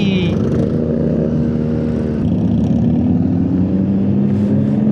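Nissan 240 car engine idling and revving steadily at a stunt lot with a drift track and drag strip, a loud continuous motor drone close by with other engine noise mixed in.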